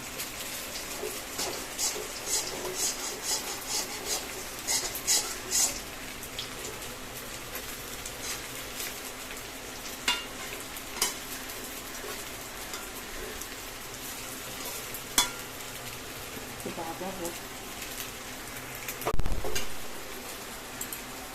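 Pumpkin flower fritters fry in hot oil with a faint, scattered crackle and soft sizzle that run on steadily, broken by a few sharper pops and a brief thud near the end.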